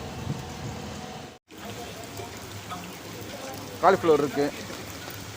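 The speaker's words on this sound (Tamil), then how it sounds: "இப்போ மழை வேறு பிச்சு உதறுது" Heavy downpour: steady rain hiss fills the background throughout, with a brief dropout partway, and a person briefly speaks in Tamil over it near the end.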